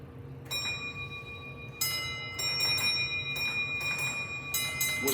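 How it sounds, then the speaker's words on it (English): A railway signal box bell on a Lancashire and Yorkshire Railway training layout rings the Line Clear code 3-1-2, clear ringing strikes in three groups with sustained overtones, close and alone. "We're signalling this train forward with the Isline Clear Bell signal 312."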